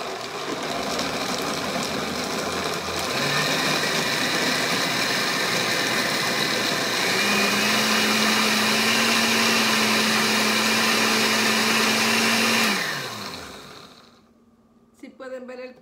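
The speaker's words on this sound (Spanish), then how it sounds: "Ahora lo vamos a licuar." An electric blender whirs steadily as it blends an ice cream mixture, a loud continuous motor drone whose pitch shifts once or twice mid-run, then winds down and stops, followed by a brief clatter and a voice speaking near the end.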